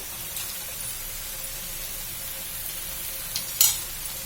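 Potatoes and butter for pav bhaji sizzle in a pan, a steady hiss with an occasional light clink near the end.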